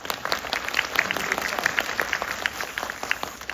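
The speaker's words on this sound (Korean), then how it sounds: "박수." Audience clapping at a post-screening talk for the Korean film Pagwa, fairly faint and steady with individual claps standing out, heard from within the hall.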